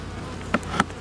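Honeybees hum faintly at a hive, with two short buzzing passes close by over a quiet background.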